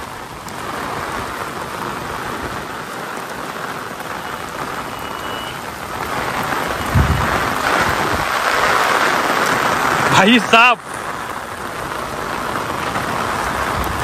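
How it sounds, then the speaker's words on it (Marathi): Heavy unseasonal rain pours down in the Konkan region as traffic halts, a loud continuous downpour with a brief sharp burst near the end and a short spoken phrase. "लय जोरात पाऊस लागता"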